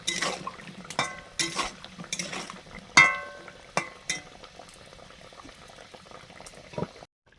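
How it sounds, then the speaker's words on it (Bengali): Green plantain steaming with salt and turmeric in a pot, a soft background simmer with a series of separate clinks and knocks against the cookware, several close together early and then fewer and quieter. "কাঁচকলাটা নুন হলুদ দিয়ে ভাপিয়ে নিচ্ছি হালকা"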